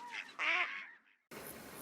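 A duck quacks in a few nasal bursts close by in a marsh nature reserve, followed by a brief pause and then an outdoor background hiss.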